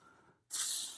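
A close, loud burst of aerosol spray from a can of Fluid Film rust protection applied to a Fiskars reel mower, starting abruptly after a brief quiet and hissing steadily to the end.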